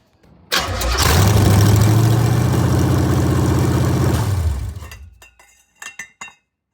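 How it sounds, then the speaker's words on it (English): A 1969 Chevy Camaro engine starts and roars loudly through open long-tube headers and dumps for a few seconds, then shuts off, followed by a few brief metallic clinks. "we got the headers installed. Here's an exhaust clip video of it"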